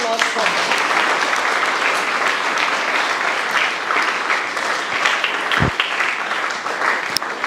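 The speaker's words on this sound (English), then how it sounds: "So give a huge round of applause for her." Students and audience at a Matrix High School science quiz event applaud loudly and steadily, a dense wash of clapping that continues throughout with a brief thump near the end.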